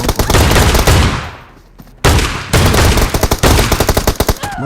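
Shotgun blasts in a first-person shooter video game, several loud sharp reports with a long decaying tail, then a rapid burst of fire clustered near the end, with no talking.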